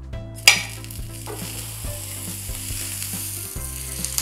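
Butter sizzling on a hot dosa tawa, a steady crackling fry with a sharp burst as it lands, then continuous sizzle alongside faint clinks and a low hum, close and alone.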